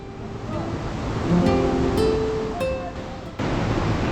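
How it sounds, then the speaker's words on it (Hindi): The Shrikhola river rushes through a forest as a steady broadband wash of flowing water, with faint tonal chirps and brief clicks over the top and a small drop in level near the end. "भाई बहुत ही खूबसूरत नज़ारा, ये श्रीखोला का नदी।"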